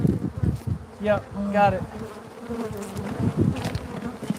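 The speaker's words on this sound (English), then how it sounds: "Damn killer bees!" Killer bees buzz close by in Bisbee, Arizona, in intermittent droning bursts that rise and fade, while people talk briefly over them outdoors.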